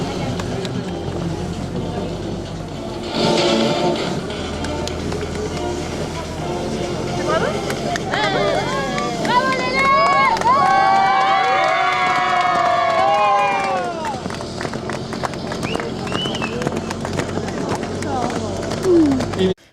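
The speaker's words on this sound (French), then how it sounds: "Allez, on les applaudit." Crowd applause and cheering at the prize ceremony of the 2017 Lamotte pony championship, a steady broadband clatter that swells midway and runs the full length, with an announcer's voice and scattered calls mixed through it.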